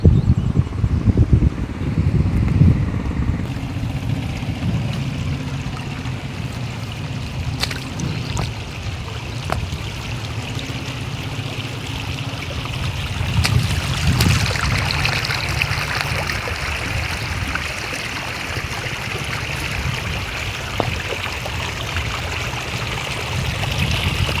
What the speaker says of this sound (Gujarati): નદીમાં પાણી ચાલુ છે